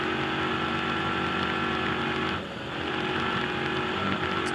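Robbie Gordon's Toyota Tires Arctic Cat 1000 number 7 trophy truck held wide open on a hill climb, a loud, sustained engine roar with a brief dip in the middle before it surges back.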